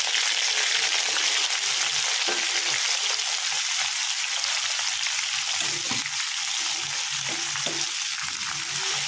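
Water lily stems tossed in hot oil over low to medium flame, a loud continuous sizzle and crackle with occasional stirring scrapes, no talking.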